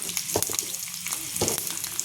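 Mustard seeds, curry leaves and dry red chillies crackle and spit in hot oil in a small pan, a steady close sizzle broken by sharp popping bursts throughout.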